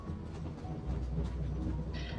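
A train rolls along its tracks in the video game Genshin Impact, giving a steady low rumble with faint rhythmic rail clatter throughout.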